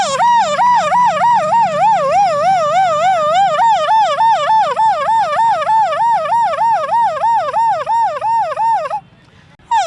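A voice imitates an ambulance siren at the Maha Kumbh, a loud wailing rise and fall repeated rapidly and evenly for several seconds before stopping abruptly.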